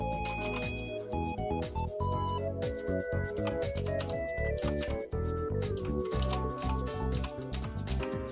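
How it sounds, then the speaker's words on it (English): Typing on a computer keyboard during a test on a PC running Windows 3.1, with rapid clicks layered over a steady background of tonal hum and music-like sound, fairly loud and continuous. "Keyboard test."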